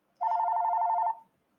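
A mobile phone rings with a single steady, warbling electronic tone lasting about a second, clear and fairly close in an otherwise quiet room.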